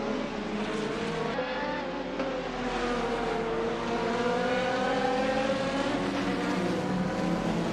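GTR race cars in a racing video game at Mugello roar continuously with high-revving engines, pitches rising and falling as they shift and jostle through corners, loud and steady with no talk.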